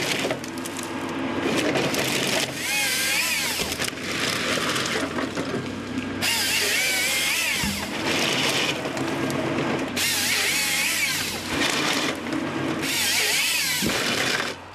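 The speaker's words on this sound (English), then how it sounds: "Today, timber processors have replaced much of the tree felling once undertaken by hand." A timber processor fells, delimbs and cuts oak and conifer trees to length, giving a loud, steady mechanical whine and grinding with surges and brief dips as the saw and feed rollers work through the wood.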